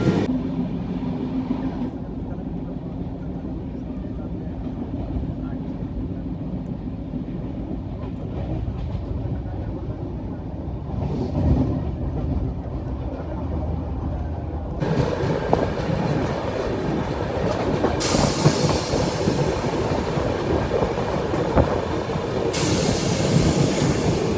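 LTT Banaras SF Express (12167) passenger train running on the rails, a steady rumble and rattle of carriages with clattering wheels that swells louder and brighter partway through, with no talk.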